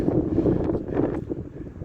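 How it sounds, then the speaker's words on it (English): Gusty wind buffets the microphone outdoors near a waterfall and tunnels in rugged Mexican landscape, a steady low rumble that swells and eases over a couple of seconds with no voices. "It's windy"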